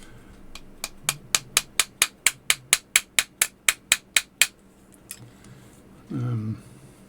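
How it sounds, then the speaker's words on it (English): A mallet taps a part into a watchmaking jeweling tailstock in a rapid, even run of about fifteen sharp close knocks, followed by quiet and a brief low rumble. "Let me see if I can bump it in with a hammer."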